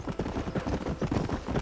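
Horse hooves thud in a fast, even riding rhythm in the Western game Red Dead Redemption, dense close hoofbeats filling the short stretch at a steady loud level with no voices.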